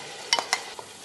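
Ginger, garlic and green chili paste hitting hot ghee in a pan with bay leaves, cinnamon and black pepper for a chicken curry, giving a few quick sizzling crackles and stirring scrapes, close and brief.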